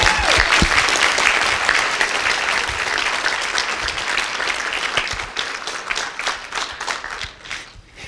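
A Toastmasters audience claps for a speaker in a dense, lively round of applause that gradually thins into scattered claps before fading.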